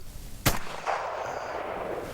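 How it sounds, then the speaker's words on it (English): A single loud shotgun blast at an American trap shooting range, a sharp close report followed by a short outdoor echo and steady background hum. "You're shooting American trap."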